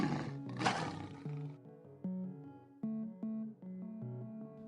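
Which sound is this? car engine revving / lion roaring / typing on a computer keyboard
lion roaring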